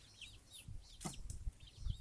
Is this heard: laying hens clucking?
yes